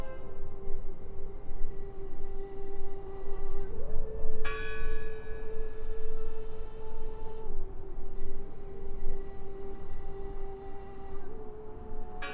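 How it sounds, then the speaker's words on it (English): A church bell in the video game Draugen tolls steadily with long ringing overtones, several strikes spaced seconds apart over a low ambient rumble, fairly distant and alone. "Listen! The bell!"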